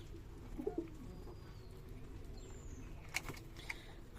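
Pigeons at a pigeon farm in Shibganj, Chapainawabganj, giving low soft coos in a few short bursts, with brief higher chirps and faint background hum.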